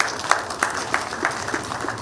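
Summit audience applauds in a thin, scattered way, with irregular claps from a modest crowd continuing steadily for a couple of seconds without speech.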